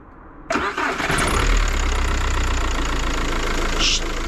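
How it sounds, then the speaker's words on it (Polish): A car engine is cranked without the clutch pressed: after a short quiet lead-in it catches abruptly and loud, then settles into a steady, rough idle that runs on close by with no talking. "Spuść sprzęgło i bez sprzęgła odpal."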